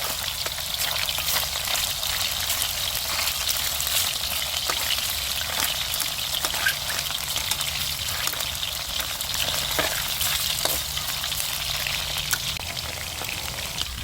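Pork pieces fry in hot oil with a steady, dense sizzle and scattered small pops throughout. Nobody speaks.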